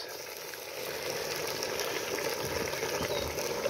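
Tomatoes tipped into a pot already cooking carrots and millet, a steady close frying sizzle that swells a little as they go in and stays even.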